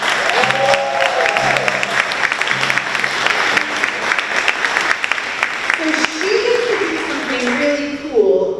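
Audience at a third-grade strings orchestra concert gives a round of applause for the bass player, sustained clapping and some cheering, with voices audible over it and a few instrument notes sounding near the start and end.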